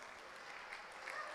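Applause fills a whole indoor arena at a women's Serie A volleyball match, Roma against Okasa Falconara, a dense steady wash of clapping from a large crowd with no voices on top.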